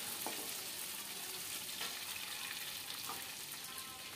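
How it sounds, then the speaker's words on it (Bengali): Cashews and raisins frying together in a kadai, a faint steady sizzle with a few soft stirring clicks, no voices. "ধুয়ে কাজু আর কিশমিশ একসঙ্গে একটু ভেজে নিচ্ছি।"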